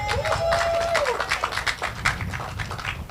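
Audience at a port press conference clapping in a quick burst of scattered hand claps, fairly close, mixed with a brief tone and some murmuring.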